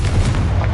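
The Confringo blasting spell detonating in Hogwarts Legacy, a short, heavy, booming explosion with a deep rumble that fills the brief moment, loud and close.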